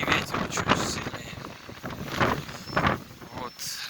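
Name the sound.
strong wind in a snowstorm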